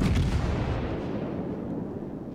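Naval guns fire in a warship video game: one heavy, close boom that rumbles and fades away over about two seconds, with no talking.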